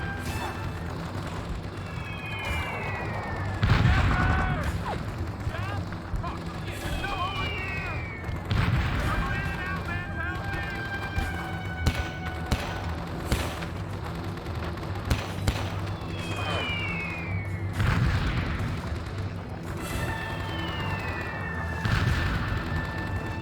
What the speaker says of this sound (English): you gotta push up while your own artillery's hitting near you